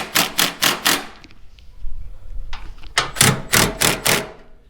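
Metal hammer striking a Cadillac SRX car fender, sharp ringing blows in two quick bursts of four or five hits each, with a brief quieter pause and a lone tap between them, close and loud.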